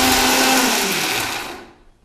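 A kitchen mixie grinds a load of ingredients with a loud continuous motor whine, then spins down and fades to near silence within about two seconds.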